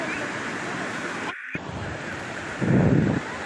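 Sea waves wash onto a festival beach under constant, loud wind buffeting the microphone. A deeper wave surge swells briefly near the end.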